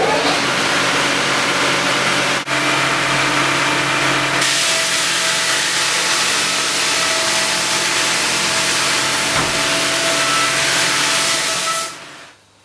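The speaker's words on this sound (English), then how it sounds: "literally uses a sand belt to sand the base of the skis" A belt sander grinds the base of a pair of skis flat, a loud steady broadband whirring roar with a low motor hum that runs continuously for about twelve seconds before cutting off.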